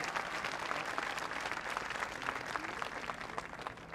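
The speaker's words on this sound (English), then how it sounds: "Give them a round of applause." An audience at a public event honoring the opening of a National Museum on the National Mall applauds steadily, a continuous moderately distant patter of many hands clapping throughout.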